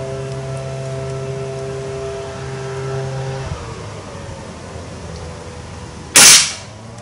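A single sharp rifle shot firing a heavier 10.6 projectile during optic calibration: one loud, abrupt crack late in the clip after a steady background hum and quiet ambience.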